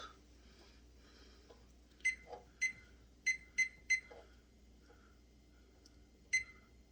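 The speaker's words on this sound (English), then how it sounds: "I'm going to set the timer for about 40 minutes with the top." Short electronic kitchen timer beeps sound in an irregular series, a few close together, over a quiet kitchen with faint background noise.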